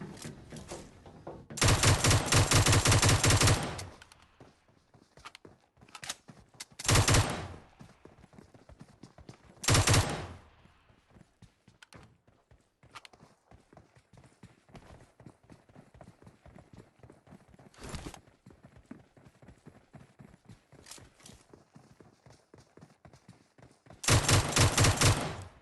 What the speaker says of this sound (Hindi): क्या खतरनाक गन फाइट है